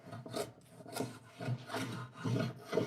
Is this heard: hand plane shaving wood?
yes